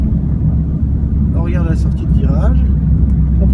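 A car with the Easydrift system drives at a steady throttle around 30 km/h on the Dreux circuit, a constant low engine rumble running throughout with an instructor's voice talking over it.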